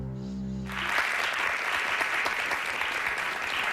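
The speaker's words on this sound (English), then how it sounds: "Golf clap." Polite studio audience applause swells in after a brief musical sting and carries on steadily, a dense even patter of many hands on a daytime talk show set.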